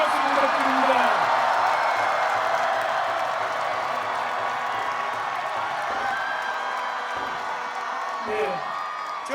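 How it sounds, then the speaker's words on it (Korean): Crowd applause and cheering at an outdoor Korean political campaign rally in Seoul, a dense sustained roar of clapping and shouts that stays loud throughout, with a few brief dips. "여러분, 다시 한번 큰 박수 부탁드립니다."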